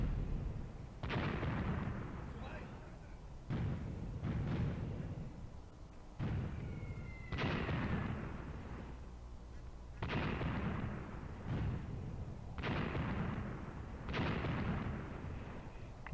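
Artillery shells pound an approach route in the WWII tactics game Graviteam Tactics, with about eight heavy booming bursts landing at irregular intervals and rolling away into a low rumble, without any voices.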